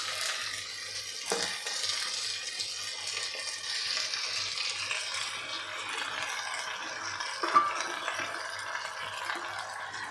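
Chicken pieces sizzle and fry on a layer of onion in a pot for a Champaran-style chicken handi, a steady soft crackle with a couple of brief knocks and rattles.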